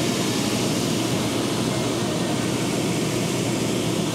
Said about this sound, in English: We've got both 2 horsepower blowers started at the exact same time.